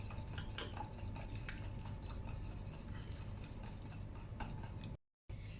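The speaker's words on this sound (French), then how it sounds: "on met l'œuf, le jaune d'œuf, et on mélange jusqu'à ce que tout soit bien incorporé" Egg yolk being stirred into a creamy veal blanquette sauce in a pot, a steady close scraping and clinking of a utensil against the pan that runs continuously, then breaks off briefly near the end.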